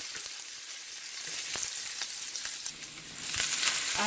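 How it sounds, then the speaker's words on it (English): Onion, garlic and crushed chilies sauté in a hot pan for a veggie lasagna filling, a dense continuous sizzle with crackling pops that swells louder toward the end, close up and free of speech. "I'm gonna add my onion, garlic, and crushed peppers or crushed chilies, and I'm gonna let this saute for about half a minute"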